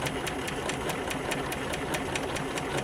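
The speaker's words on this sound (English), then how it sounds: "you're going to hit your start stop button technology" A Spiegel 60609 sewing machine running a decorative flower stitch, its needle clattering in a fast, even rhythm of about five strokes per second over a steady motor hum, close and continuous.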